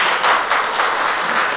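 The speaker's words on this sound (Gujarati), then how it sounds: "મહેમાનોનું જોરદાર તાળીઓથી સ્વાગત કરીએ" A crowd claps in welcome for guests arriving at a tractor showroom event in Amreli, a dense sustained patter of many hands, fairly loud and even with slight swells.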